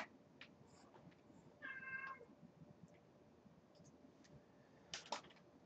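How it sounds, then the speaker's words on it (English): A pet cat meows from out in the hall during a quiet live online chess game, two or three faint, distant cries separated by pauses over a low room hiss. "He's out in the hall meowing"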